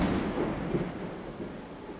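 Thunder rumbles low and heavy through a downpour, a sustained rolling boom that fades slightly over two seconds, with no voices.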